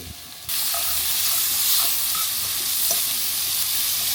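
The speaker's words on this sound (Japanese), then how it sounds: "じゃがいもと卵を炒めて添えてみました" Potatoes and eggs stir-fry in a pan on a four-burner stove in a rented apartment kitchen, a loud steady sizzle that kicks in abruptly and carries on with faint scraping stirs, no voices.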